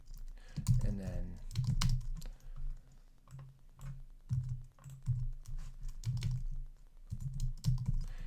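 Steady typing on a computer keyboard while writing a FileMaker script, clustered keystrokes in bursts running under continuous talking throughout.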